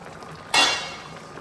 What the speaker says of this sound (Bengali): এখন দশ মিনিট পর আমি ঢাকনাটা খুলে দেখছি কি অবস্থা আমার তরকারির